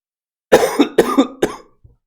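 A person lets out three sharp coughs in a row, close and loud, each burst a little shorter than the last, followed by a faint catch of breath.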